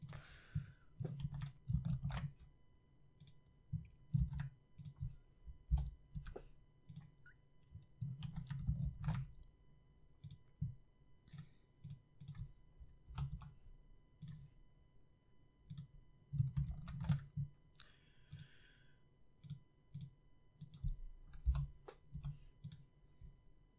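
Computer keyboard shortcuts being typed in quick, irregular bursts of close, crisp key clicks with short pauses between, no talking.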